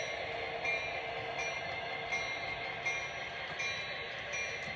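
An HO scale model train rolls along steadily, a continuous mechanical whir with faint wheel clicks and squeals, close and moderately quiet.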